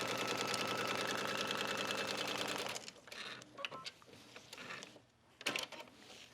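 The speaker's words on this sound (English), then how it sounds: "as you're stitching, just hold the fabric together to make sure that one side isn't sliding more than the other" Sewing machine stitching suede cut-outs to skirt fabric, running in a fast steady mechanical chatter for about three seconds, then stopping into scattered handling clicks and rustles.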